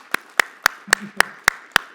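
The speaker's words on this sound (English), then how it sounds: "Let's give Sarah and Dermot a round of applause, please." Eight sharp, evenly spaced claps in a slow, regular rhythm, close and fairly loud, sound during a round of applause at a UK property-investing event.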